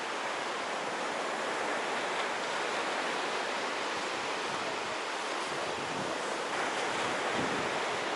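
Sea waves washing on the shore, a continuous loud broadband roar of surf that stays steady throughout, mixed with some wind, with no talk.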